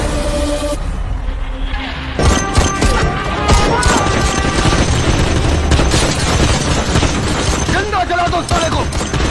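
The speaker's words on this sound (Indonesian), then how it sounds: "Prabu meminta anggotanya untuk menembak Malik dan mengecek keberadaannya" Gunfire in a tense scene from an Indonesian revenge film, where men shoot at a target inside an empty house. Dense, loud bursts of shots and crashes run almost continuously under a busy, layered soundtrack.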